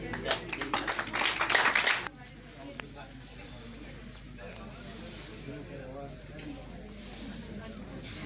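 An audience at a university event in Skardu, Baltistan, applauds the chief guest in a loud, dense burst of clapping lasting about two seconds, then stops abruptly as quiet talk takes over.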